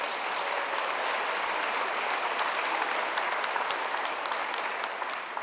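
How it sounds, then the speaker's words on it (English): A large audience at a school district convocation claps steadily for new staff members, a sustained, even round of applause with crisp individual claps audible within it. "Can we have one more round of applause for all our new staff?"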